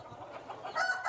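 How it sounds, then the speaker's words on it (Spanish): Fighting rooster crows and clucks nearby, a short, fairly faint call that rises toward the end. "Son gallos muy finos, muy resistentes, muy a lo que van."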